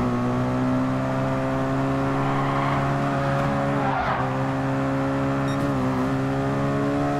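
A Ferrari race car in Gran Turismo 5 holds a steady, loud engine drone as it drives, with brief tire squeal and skidding around midway, and no voices over it.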